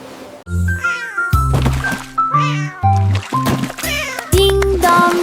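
Repeated cat meows, some drawn out, sound over bouncy music with thumping bass notes, fairly loud and close.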